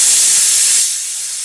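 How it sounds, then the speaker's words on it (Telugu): A pressure cooker cooking dal lets off a loud, close hiss of escaping steam, which drops to a softer hiss near the end. "3 విజిల్ వచ్చేదాకా పెట్టుకుందాం."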